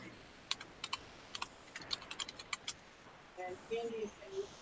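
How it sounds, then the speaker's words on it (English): Computer keyboard typing during a live stream, a run of quick light clicks in an irregular rhythm, fairly faint, followed by a short bit of speech. "I hear typing though."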